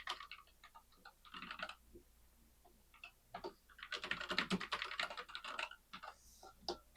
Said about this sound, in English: this is where we'll type in our managed hosts